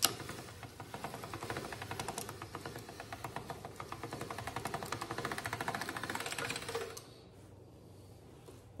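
Dough being rolled through a pasta-style rolling machine set to its first setting, a rapid, even mechanical clatter that builds gradually over several seconds and then stops abruptly, with no talking.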